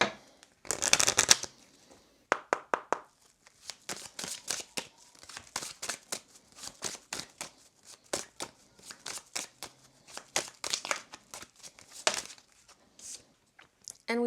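Tarot cards being shuffled and drawn, giving a run of crisp riffling bursts and papery flicks and slaps at close range, with brief pauses between clusters and no talking.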